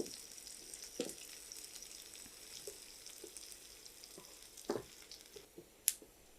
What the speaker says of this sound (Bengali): পেঁয়াজটা ভাজা হয়ে গেছে, আমি এটা বেরেস্তা করব না, এরকমই ভাজা থাকবে।